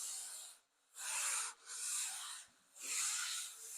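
Sandpaper rubbing across a flat wood surface in a woodworking shop, three steady back-and-forth strokes with brief pauses between them, close and alone without talk.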